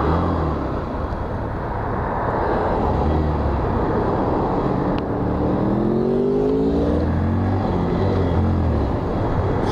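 A motorbike passes nearby on the road, its engine droning loudly and steadily, then rising and falling in pitch as it goes by, with traffic rumble in the background.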